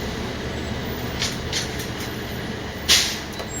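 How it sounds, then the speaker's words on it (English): Garbage truck rolling through an alley, a steady broad engine rumble with faint clanks and a sharp hiss of air brakes near the end. "It's a garbage truck."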